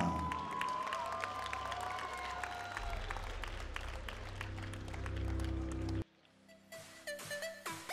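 An arena crowd at a FEA World Grand Prix fight night roars and applauds as Moldovan fighter Alexandru Burduja is introduced. The dense, loud cheering cuts off abruptly near the end, leaving quieter scattered noises.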